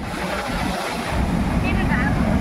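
Strong wind buffets the microphone in loud, rushing gusts that intensify halfway through, with rough outdoor noise and no clear speech, in Cherrapunji.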